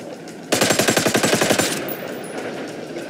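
A rapid burst of automatic gunfire in Ghost Recon Wildlands, aimed at a helicopter, sharp evenly spaced shots for about a second and a half, loud and close, then trailing off into a quieter ambient tail.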